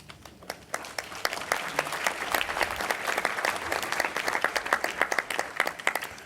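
A gala audience at an architecture awards ceremony gives a steady round of applause, with many separate claps from a mid-distance crowd and no talk over it.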